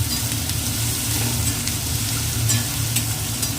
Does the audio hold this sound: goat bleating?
no